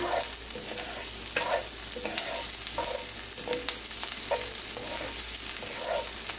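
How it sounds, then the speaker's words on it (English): Garlic and onions frying in oil in a pan for a beef and peppers rice bowl, a steady close sizzle with a spoon stirring and scraping at intervals. "So we're just going to cover the garlic in the oil. Add your onions in here."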